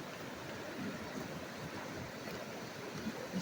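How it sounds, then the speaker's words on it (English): Fast-moving, clear stream water in the Yukon near Faro rushes in a steady, close wash of broadband noise with no talk over it. "Boy, is this water moving."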